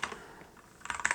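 Quiet computer keyboard typing during a Stream Deck hotkey setup, a few soft scattered clicks at first, then a quicker, louder run of keystrokes near the end.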